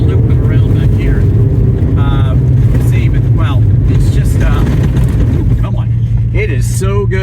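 A Datsun 280Z sports car's engine drones loudly and steadily from inside the moving car, with road rumble throughout and someone talking over it.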